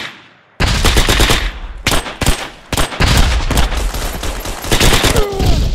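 Machine gun fire in the WWII shooter Hell Let Loose: after a brief quiet moment, loud close bursts of rapid automatic fire start suddenly, broken by short gaps and resuming in choppy runs of shots.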